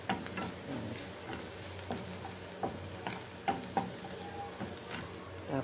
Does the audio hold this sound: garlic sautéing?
yes